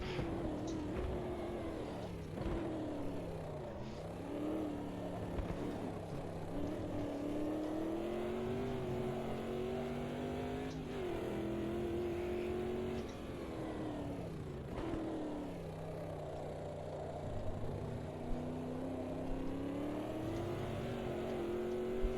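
A race car engine on the Road America circuit screams through repeated gear changes, rising in pitch as it accelerates and briefly dropping on each shift, loud and close throughout with no talk.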